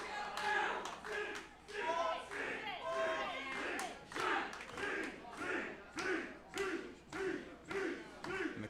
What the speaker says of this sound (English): Crowd showing their support,